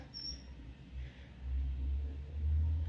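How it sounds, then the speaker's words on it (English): Road traffic with passing trucks rumbles outside a vet clinic, a steady low drone that swells louder toward the end, heard from indoors with no talking. "There's trucks out there and stuff. You hear all that traffic?"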